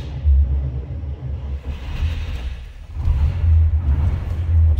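A 1940 Cadillac Series 60 Special Fleetwood cranks and catches, its engine rumbling low and settling into a steady idle heard from inside the car, the rumble swelling again near the end.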